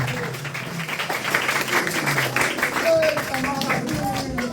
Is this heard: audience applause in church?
yes